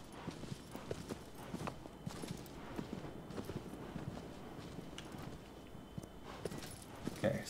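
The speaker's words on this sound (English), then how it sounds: "Damn horse." Horse hooves clip-clop at a steady, rapid pace through the Shadow of the Colossus video game, with rhythmic thuds close and fairly quiet and no speech over them.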